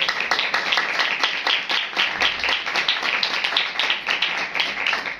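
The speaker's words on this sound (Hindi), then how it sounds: "उन सबके लिए जोरदार तालियां बजाएं" Audience clapping steadily at a religious gathering, a dense, even patter of many hands sustained throughout without a break.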